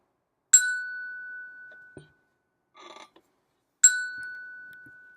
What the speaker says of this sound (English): the image of pulling the sound out of the bells